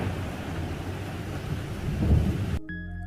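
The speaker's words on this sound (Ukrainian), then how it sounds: "Дощ з громом та блискавкою називається грозою." Heavy rain falls in a thunderstorm with a deep rumble of thunder swelling near the end, a dense steady hiss that cuts off abruptly.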